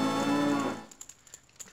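A cow in Zelda Ocarina of Time Master Quest gives one loud, sustained moo that stops abruptly, followed by faint clicking game sounds.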